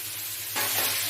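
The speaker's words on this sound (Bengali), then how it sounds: "এইবার ভেজে রাখা কাঁকড়াগুলো আমি এর মধ্যে দিয়ে দেব।" Fried crabs drop into a spice paste cooking down in a pan, and the steady sizzle suddenly swells louder and brighter about halfway through, then holds strong and close.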